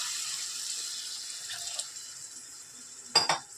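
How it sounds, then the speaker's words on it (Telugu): Milk and water pour steadily into a pan with a soft hiss, followed near the end by a brief clatter of a utensil. "మిల్క్ అండ్ వాటర్ కలిపి పోసేస్తున్నాను నేను"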